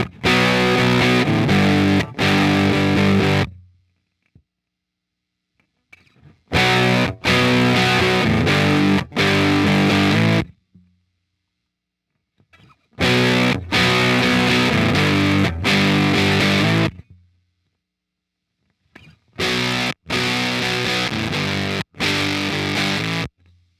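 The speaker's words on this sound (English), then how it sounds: "You can get from a really solid sound like you're hearing now to some really like farty style fuzz tones." An electric guitar through an Electro-Harmonix Germanium 4 Big Muff Pi fuzz pedal plays heavily distorted, fuzzy chords in short loud bursts separated by silent gaps, repeating four times.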